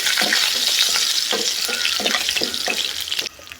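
Garlic and cumin sautéing in hot oil for a vegetarian curry-leaf curry, giving a loud, steady sizzle broken by rhythmic scraping stir strokes that abruptly drops to a quieter hiss near the end.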